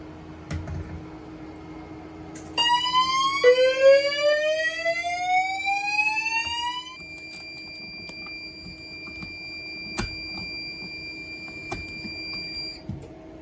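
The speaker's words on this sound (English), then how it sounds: "first up we're gonna go ahead and activate the smoke detector" Fire alarm on a Potter PFC 4064 panel system sounding after a smoke detector test: loud rising electronic sweeps followed by steady high tones and periodic beeps, alone with a constant hum underneath.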